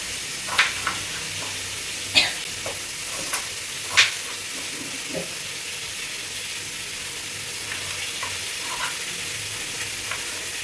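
Sambar for a crab curry, cooked at a sister's home, bubbles and sizzles softly in a pot, with a few sharp clinks of stirring standing out over the steady low hiss.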